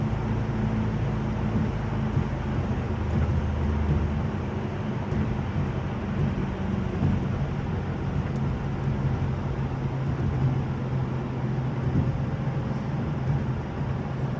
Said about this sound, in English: We're in fourth gear, currently cruising about 60 miles per hour.